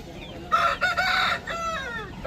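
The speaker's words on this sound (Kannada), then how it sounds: "ಇಲ್ಲಿ ಒಂದು ಹುಂಜ ಇದೆ" A rooster crows at an Aseel chicken market, one long drawn-out call rising and holding near the microphone, with a shorter second burst trailing after amid faint market background noise.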